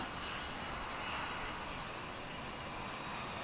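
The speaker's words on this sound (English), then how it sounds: "bring you UPS flight 9775 coming in from Houston Intercontinental Airport. This will be a 767." A UPS Boeing 767 jet coming in to land at DFW International Airport, arriving from Houston, gives a steady, loud, broad engine roar that holds evenly throughout with no talking.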